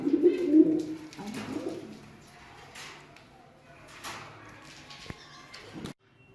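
Pigeons cooing in a loft as the birds are moved into a new room, with a few soft, low coos near the start, then quieter rustling, faint knocks and a door-like sound before a sudden stop.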